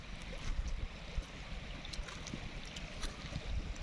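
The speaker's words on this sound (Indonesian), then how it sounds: "Ini aliran sungai Tiro juga" Flowing river water from the Tiro river stream deep in the Aceh jungle, a steady broadband rush and gurgle running continuously at moderate level with no voices.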